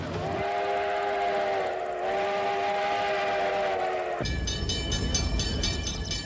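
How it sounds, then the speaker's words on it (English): A steam excursion train stopped in an open field sounds a steady, loud steam whistle for several seconds, then gives way to hissing and a rhythmic clatter. "Partway through the trip, the train comes to a stop in an open field."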